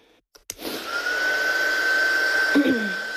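A dryer whirs steadily on ink drying on a stamped craft painting project, starting after a couple of brief clicks and running loud and close for a few seconds.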